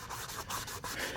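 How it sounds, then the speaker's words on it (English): Sandpaper rubs back and forth across a car headlight lens in quick, steady scratchy strokes, close and alone. "it is recommended you put sandpaper all around the panel you're gonna"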